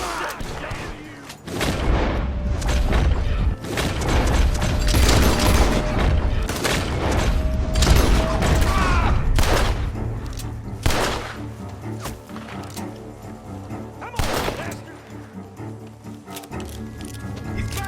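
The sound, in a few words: gunfire from a barn in Red Dead Redemption 2 video game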